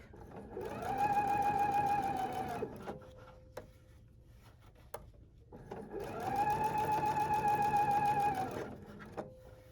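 A Husqvarna Viking Epic 2 sewing machine runs in two steady bursts of rapid stitching over rope under fabric, each a few seconds long, with a quiet pause and small clicks between them.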